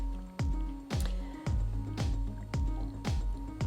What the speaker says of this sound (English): douse it in vinegar. Plenty of vinegar